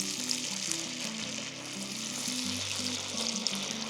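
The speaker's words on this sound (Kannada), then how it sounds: "ಕಡಿಮೆ ಫ್ಲೇಮಲ್ಲಿ ಫ್ರೈ ಮಾಡ್ಕೊಳ್ಳಿ." Sabakki tikki sago patties shallow-frying in oil over a low flame, a dense continuous sizzle with faint crackles, under a steady low hum from the stove, close and moderately loud.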